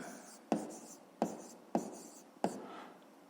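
Pen strokes on paper while writing out a fifth-grade maths exercise, four sharp scratchy bursts at a steady rhythm, each fading before the next, close and fairly quiet.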